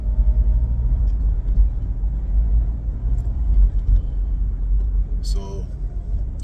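A car crosses the George Washington Bridge into Manhattan, giving a steady close interior road rumble and engine hum throughout, with someone talking over it.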